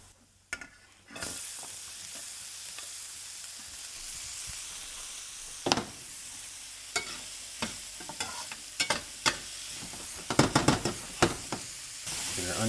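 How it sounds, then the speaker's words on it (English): Onions fry in olive oil in a pan, a steady quiet sizzle broken by sharp clatters and scrapes of stirring that grow busier toward the end. "then we are going to add a little bit more olive oil to the pan. And we're going to add in our onions."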